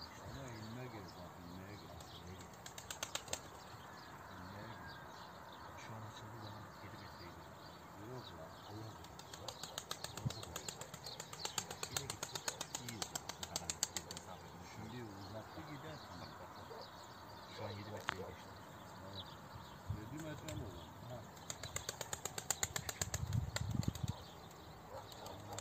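Pigeon wings flap in short bursts as birds come in to land, with a few chirps and background talk throughout.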